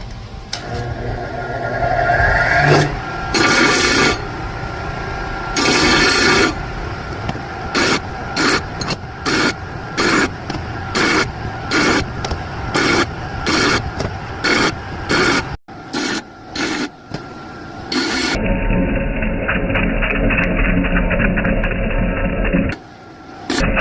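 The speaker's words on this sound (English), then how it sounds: "Let's grind the thrust faces now." Grinding the thrust faces of engine connecting rods on a machine, loud harsh scraping in repeated bursts with brief pauses, then a steadier grinding tone near the end, close and with no talk.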